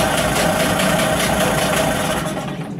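New CG Marine 9.9 hp electric-start outboard boat motor running at a steady, loud, buzzing idle, close by and continuous, easing off slightly at the end.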